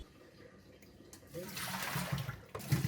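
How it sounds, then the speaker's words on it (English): Water splashes and sloshes in a basin as mung beans are rinsed, starting quiet then swelling into louder swishing with a sharp splash near the end. "Rinse them out for the last time."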